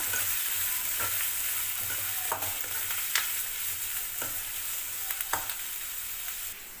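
Chopped onions fry in a pan with a steady sizzle, broken by regular scrapes and knocks of a stirring spoon, close and alone with no voices.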